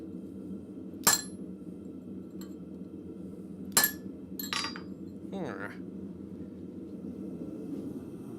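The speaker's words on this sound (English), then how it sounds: "And then I'm going to punch a hole right in the middle of that." A blacksmith drives a punch through hot metal on an anvil at a forge, two sharp ringing hammer strikes followed by a few quicker lighter taps over a low background hum.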